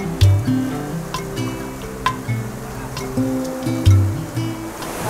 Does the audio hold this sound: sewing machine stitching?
no